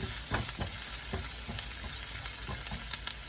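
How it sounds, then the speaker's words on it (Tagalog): Garlic frying with onion in a hot pan (kawali) sizzles loudly and continuously up close, with repeated scraping and stirring knocks of a utensil throughout and no voices. "Sabay ko na siyang ilalagay para mainit na yung kawali para masunog yung ating bawang."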